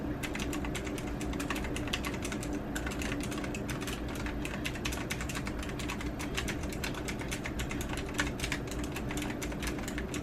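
Rapid, steady keystrokes on a cute gaming keyboard during a typing test, a dense clicky clatter continuing evenly for about ten seconds with no talking.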